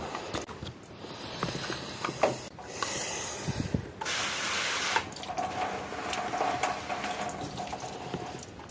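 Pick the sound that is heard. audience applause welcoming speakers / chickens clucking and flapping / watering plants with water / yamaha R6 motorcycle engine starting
watering plants with water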